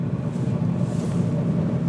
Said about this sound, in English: It just sounds really windy coming from my door.